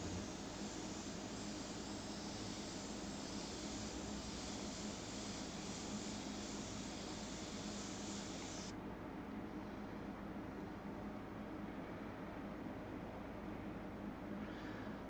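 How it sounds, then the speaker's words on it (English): An airbrush at high air pressure sprays blue Chroma Air acrylic urethane paint, giving a steady, unbroken hiss that fills the whole stretch close to the listener, with no voices over it. "just got the air pressure cranked up, pushing it out a little better now"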